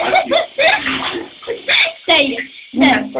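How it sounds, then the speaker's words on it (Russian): Shower water runs in a steady rush, breaking into bursts as people talk close by over the spray. "А давай душ себе смоем. Душ. Душ включи."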